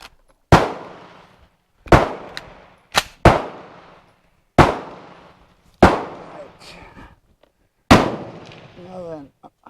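An FN FAL STG58 rifle fires six loud, sharp shots at uneven intervals, each ending in a short echoing decay, with two shots close together near the middle and faint handling noise between.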